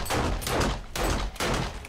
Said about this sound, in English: I just hear distant gunfire.